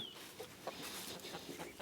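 Farm chickens cluck and squawk in a short agitated burst while being chased toward a gate, several birds close by, with no voices.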